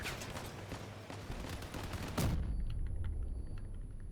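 Rapid, dense gunfire from a vehicle-mounted machine gun in the Crossout vehicle combat game, loud and sustained, with a heavy low boom about halfway through, after which the firing carries on more muffled.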